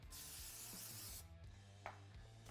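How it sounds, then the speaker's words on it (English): A steady, bright hiss of brake cleaner sprays from a can onto a rag for about a second, then cuts off, leaving quiet background rustle and a brief wipe during a Can-Am Maverick X3 brake pad job. "So you're going to spray some brake cleaner on a rag"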